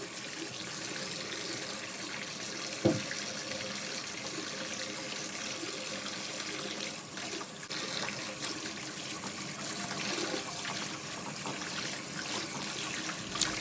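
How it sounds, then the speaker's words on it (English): Tap water runs steadily into a sink while bleach is rinsed out of a homemade wig, a constant close rush of water with one or two small knocks and no talking. "I'm going to rinse all of this bleach out and give it a good shampoo."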